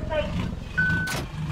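Nissan dump truck reversing in Farming Simulator 19, a steady beeping tone over engine hum, with someone talking excitedly throughout.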